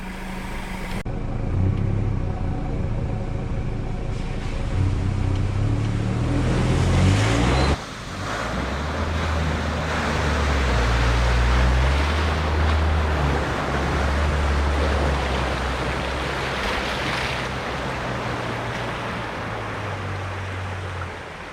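A Ford Raptor in four-wheel-drive high with a rear locker engaged ploughs through deep water on an outback track, engine rumbling steadily under continuous rushing, splashing water and wind buffeting the microphone.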